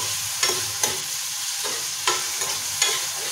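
Tomatoes and onions frying in a pan give a steady close sizzle, broken by several scraping stir strokes at irregular intervals, with no talking.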